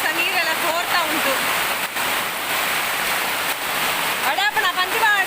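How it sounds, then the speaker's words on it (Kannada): Heavy rain pours and floodwater rushes around a seaside house, a dense, loud, constant roar of water close by, with people talking over it at several points. "ಒಳಗೆ ಸಹ ನೀರೆಲ್ಲ ಸೋರ್ತಾ ಉಂಟು"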